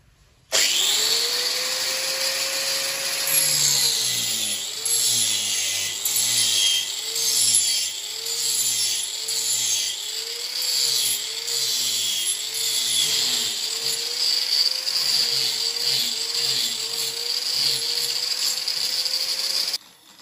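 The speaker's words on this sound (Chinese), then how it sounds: "现在我们就按照这个弧度，就它这个弧度，把前面给它磨了，往下磨一点" A power grinder wears down the curved edge of a pipe opening to fit a toilet flange, a close, steady motor whine pulsing in a regular rhythm as the tool is worked back and forth, with no talking.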